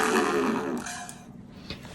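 A heavily distorted sci-fi space gun blast erupts loud and gritty, then decays over about a second into a rough, roaring tail, alone with no voices.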